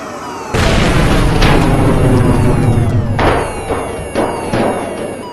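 A BLEVE tank explosion in an oil and gas VR training simulation erupts as a heavy, roaring boom lasting a few seconds, then gives way to several further sharp bursts and rumbling blasts.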